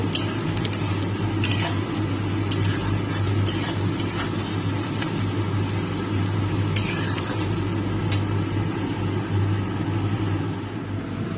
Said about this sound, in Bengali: নুন দিয়ে এটাকে একটু হালকা ভাজা ভাজা করে নেব